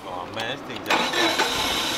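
A 1950 GMC cab-over truck, out of gas, cranks over with a chugging starter rhythm that catches briefly into a rougher engine roar and then keeps turning, with people talking nearby.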